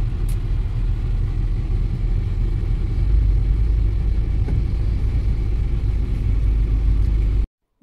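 Road traffic surrounds a car in slow-moving conditions near Hosur on the way to Kanchipuram, a continuous low rumble of engines and tyres heard from inside the vehicle, steady and without voices.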